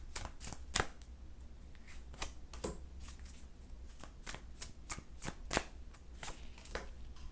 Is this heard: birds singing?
no